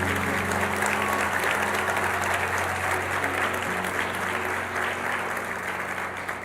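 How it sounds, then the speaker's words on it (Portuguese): Church congregation applauding after a prayer, a dense continuous wash of many hands clapping at a steady loud level for several seconds, with a low sustained hum underneath and no clear speech. "Vamos dar uma salva de palmas ao Senhor."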